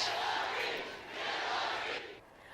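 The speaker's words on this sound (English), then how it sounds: "A really cheerful crowd there" A cheerful crowd in a restaurant, a soft wash of mingled cheering and chatter that swells, dips, then rises again at a distance.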